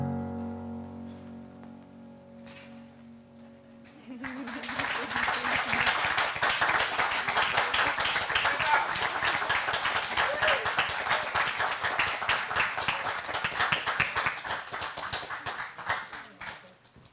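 An audience applauds after a youth opera showcase performance, a dense burst of clapping that starts suddenly after a quieter sung passage and continues steadily, loud and close.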